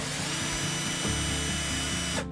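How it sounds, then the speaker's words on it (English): A power drill running steadily while backing temporary screws out of a sliding bed frame inside a Ford Transit van conversion, a continuous close whir lasting the whole moment before cutting off. "Take out the screws that are holding it all fixed at the moment,"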